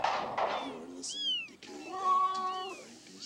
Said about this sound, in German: Wir wollen nicht sehen, wie die Katze frisst.